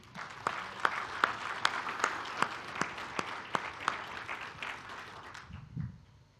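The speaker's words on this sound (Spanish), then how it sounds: "Iglesia, de un aplauso al Señor." Scattered applause from a church congregation, with a few sharp claps standing out, tapering off to quiet at the end.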